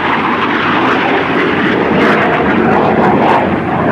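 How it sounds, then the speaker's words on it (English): A Lockheed F-117 Stealth jet makes a flyby at the 2005 Andrews AFB airshow, a loud, sustained engine roar that fills the whole stretch without letup. "From out of the fertile mines of Lockheed, there's only one shape like it. It is the F-117 Stealth."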